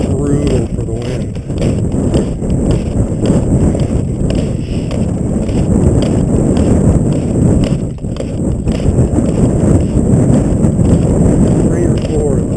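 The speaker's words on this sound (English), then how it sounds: "Open area is brutal for the wind." Wind blowing across an open area on the Bunsen Peak trail in Yellowstone, a loud continuous buffeting roar against the microphone throughout, with rough rumbling gusts and no clear pauses.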